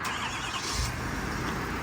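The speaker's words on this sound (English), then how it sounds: "Let's do a little cold start first." A 2023 Ford F-350 Super Duty with the 6.7L Powerstroke diesel cold-starting at 32 degrees, a loud, steady, close engine roar with a brief burst near the start and no talk over it.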